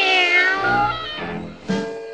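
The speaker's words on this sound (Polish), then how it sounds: "Ach, jaki uroczy kotek." Cartoon cat meowing in a Smurfs episode: a drawn-out, pitch-gliding meow followed by shorter mewing calls, close and clear with no talk over it.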